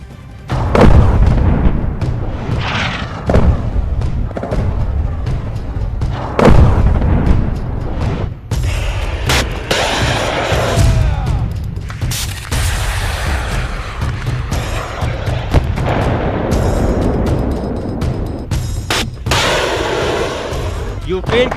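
Artillery fire and explosions during the Russia-Ukraine war: repeated heavy booms and blasts, some sharp and close, others rumbling, recurring irregularly over a continuous loud din of combat.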